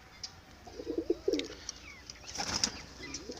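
A listless, sick pigeon makes a few soft, low cooing calls, with a brief rustle or wing flutter after them. The sounds are faint and close by against a quiet background.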